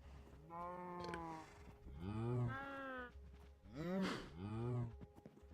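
Baby cows in the Minecraft GregTech Create TFG modpack moo several times in a row, long drawn-out calls overlapping one another, close by and fairly loud, with a faint low hum underneath.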